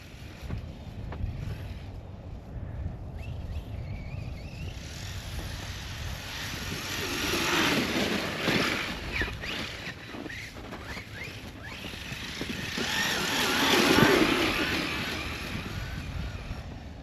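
An Arrma Kraton 4s RC car runs through cold snow, its electric motor whining and surging in waves that swell loudest near the middle and toward the end, with no talking.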